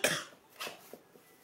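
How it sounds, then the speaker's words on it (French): A single short, dry cough close up, followed by a couple of faint throat sounds in a quiet room. "Pardon, je tousse encore."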